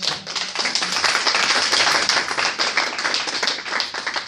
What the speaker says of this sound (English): Everyone please give a round of applause for her